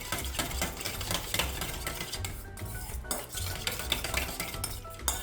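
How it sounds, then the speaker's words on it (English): A utensil stirs and scrapes steadily around a bowl of yeast mixture for katayef batter, a continuous soft swishing with occasional clinks, close but fairly quiet, with no one speaking. "We're going to mix this."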